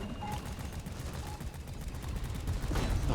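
Rapid gunfire in a video game, aimed at a core stone, rattles steadily throughout amid dense game noise and busy effects, with no voice on top.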